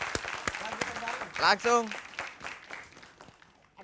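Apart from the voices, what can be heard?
applause for Meggy Z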